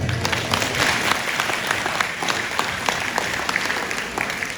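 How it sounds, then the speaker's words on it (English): Audience at a Tibetan community gathering clapping for a birthday, dense sustained applause from a crowd with sharp individual claps, loud and close for the whole stretch, with faint crowd murmur underneath. "Let's give him a clap."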